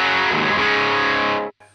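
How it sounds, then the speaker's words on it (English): An electric guitar played through a TC Electronic Nova Drive overdrive pedal gives a loud, gritty chord that rings out for about a second and a half before stopping sharply, followed by a brief faint tail. "there's the TC Electronic Nova Drive, which sounds like this."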